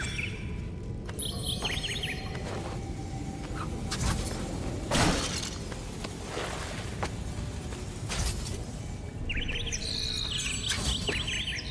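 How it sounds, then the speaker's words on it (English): A pet bird chirps and calls in short bursts near the microphone, high tweets recurring at the start and end over a steady wash of video-game background noise and effects. "My bird is making hella noises."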